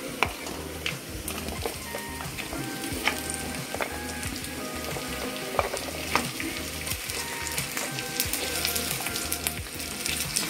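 Onions, garlic and grated ginger stir-fry in a pan for baby corn chili, a dense steady sizzle with frequent spatula scrapes and taps, close and continuous without speech.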